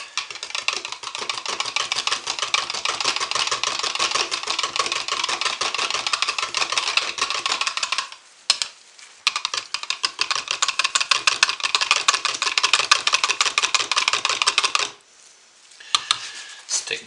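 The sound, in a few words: whisking soap colorants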